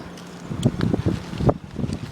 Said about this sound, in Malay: oh, angin